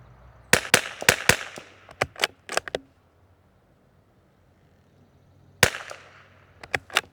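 Sharp rifle reports from a Tikka T1X .22LR fitted with a Criterion barrel, fired outdoors at targets: a quick cluster of about eight cracks, a lull, then several more spaced shots.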